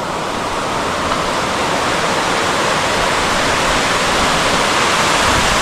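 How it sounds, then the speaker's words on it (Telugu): A monsoon waterfall at Visapur fort roars nearby in heavy rain, a dense, unbroken hiss of falling water holding steady and loud throughout with no voices. "ఇక్కడ నుంచి వాటర్ ఫాల్స్ మాత్రం అద్భుతంగా ఉన్నాయి."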